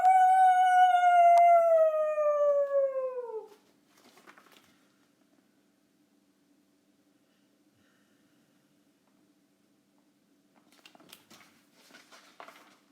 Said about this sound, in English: Coyote sat on his haunches and howled.